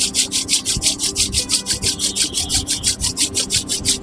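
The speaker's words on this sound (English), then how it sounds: "Rub your hands." Hands rub briskly together in a quick, even back-and-forth rhythm of dry swishing strokes, close and clear, during a yoga session at sea with no talking over it.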